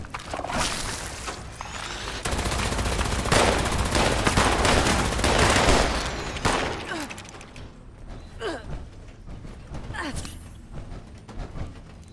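Gunfire from a firefight inside Vault 94 in the video game Fallout 76, with dense bursts of automatic fire in the first half, then sparser, fainter shots, and voices talking briefly over parts of it.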